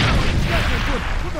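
A grenade explodes in the video game Far Cry 2 with a loud, rumbling, booming blast close by. Voices shout over the noise of the firefight.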